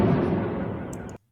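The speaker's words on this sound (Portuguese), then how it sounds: "nesse aqui dá para ouvir a explosão secundária" A secondary explosion at a munitions site in Donetsk booms as a loud, broad rumble that fades gradually for about a second before cutting off abruptly.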